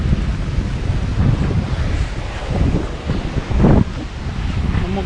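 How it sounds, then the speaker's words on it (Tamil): Sea waves surge at Kanyakumari beach under strong, buffeting wind that rumbles across the microphone. The surf roars loud and continuous, and a few swells rise above the rest. "அந்த பக்கம்லாம் கொஞ்சம் அலையெல்லாம் கொஞ்சம் ஜாஸ்தியாக தான் வந்துக்கிட்டு இருக்கு."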